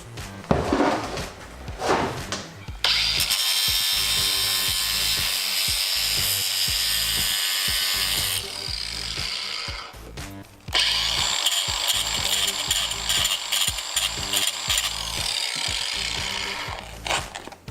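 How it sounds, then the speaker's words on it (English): Loud sustained power grinding on metal parts during an R56 Mini intercooler install, two long continuous passes broken by a short pause, preceded by brief handling clatter, close and harsh with no talk. "It's a lot of grinding."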